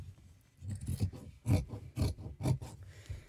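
Scissors cutting around a shape in fabric for a crochet chick project, heard as a series of close, rasping snips in an uneven rhythm, with several louder cuts toward the middle and end, with no talking.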